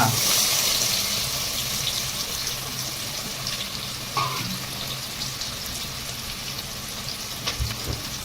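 Onion, turmeric and cumin fry in a pan for a besan dish, a loud, dense, close hiss that is strongest at first and then settles into a steady crackling rush with a few small knocks, no voices.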